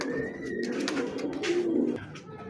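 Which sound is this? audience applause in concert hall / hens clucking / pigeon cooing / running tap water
pigeon cooing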